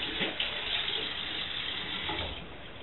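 Water running steadily as a pot is rinsed, a continuous close splashing hiss with slight swells and no talk.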